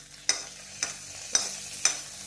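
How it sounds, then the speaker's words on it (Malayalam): Mustard seeds spluttering in hot oil with small onions and chilli, fenugreek and asafoetida powders for a brinjal curry, giving evenly spaced sharp crackling pops, roughly five of them, fairly faint and alone. "നമുക്ക് കടുക് പൊട്ടിച്ചിട്ട് അതിലേക്ക് ചെറിയ ഉള്ളി ആഡ് ചെയ്യാം"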